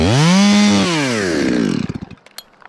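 A Holtzforma G11 chainsaw, a knockoff of the Stihl MS200T, revs loudly close by while cutting a huge tree, then its engine winds down and a few sharp cracks and knocks follow.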